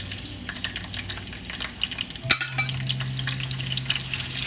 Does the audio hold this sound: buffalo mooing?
no